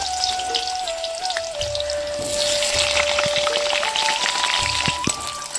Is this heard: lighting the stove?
no